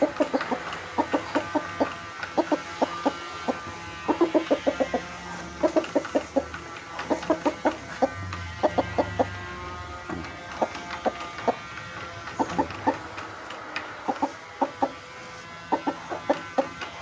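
A rooster clucks and calls in a farmyard, with repeated short bursts in irregular clusters, some fowl sounds close and loud and others softer, with no talking.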